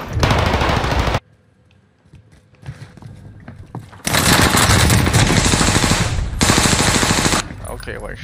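Call of Duty Rebirth Island gunfire: a loud rapid automatic burst, a near-silent gap, then sustained heavy machine-gun fire lasting several seconds before trailing off.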